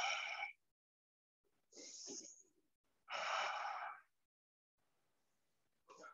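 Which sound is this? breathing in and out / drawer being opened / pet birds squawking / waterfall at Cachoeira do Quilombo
breathing in and out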